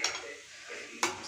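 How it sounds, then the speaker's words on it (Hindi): A spoon clanks against a metal pot while saag is mixed with rice starch water, two sharp scraping clinks about a second apart over a faint wet stirring sound. "मैं इसको अच्छे से मिक्स कर देती हूँ।"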